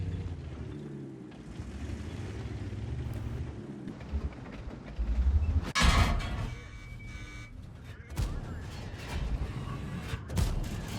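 A single sharp tank cannon shot in World of Tanks cracks out midway over a low rumbling engine drone, followed by lighter impact thuds and fading debris noise.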